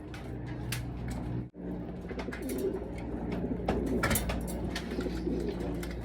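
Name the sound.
pigeons cooing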